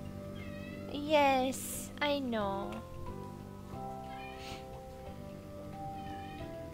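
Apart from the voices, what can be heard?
cat meowing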